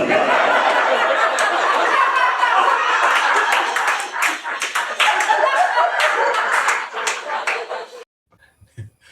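A comedy show audience bursting into applause mixed with laughter and chuckles, loud and dense at first, then thinning to scattered claps before cutting off near the end.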